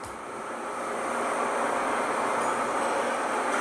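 A commuter train on the Sendai subway line toward Izumi-Chuo rumbles and roars steadily nearby as it approaches a platform with platform doors, the broadband noise building at the start then holding loud and constant.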